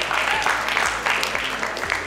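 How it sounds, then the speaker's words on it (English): An audience at a restaurant awards event applauds in a steady, moderate patter of many hands, heard from the middle of the room with some rhythmic claps standing out. "Let's give that a big round of applause."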